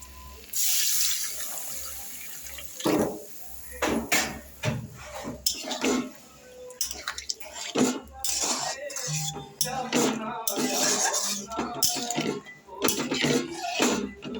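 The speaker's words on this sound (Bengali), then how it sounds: "মশলাটা কষা হয়ে গেছে, আমি এবার জল দিয়ে দিচ্ছি" Water poured into a pan of sautéed spice masala while cooking a prawn bora curry, splashing and running steadily, with scattered clinks of utensils against the pan throughout.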